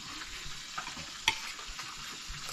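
Lapu-lapu (grouper) fish fries in oil with a soft continuous sizzle, interrupted by a few stirring and scraping clinks, one sharper clack standing out in the middle.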